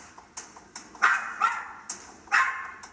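A dog barks repeatedly at a sofa indoors, a run of sharp, fairly close yaps and barks in uneven bursts over a quiet room.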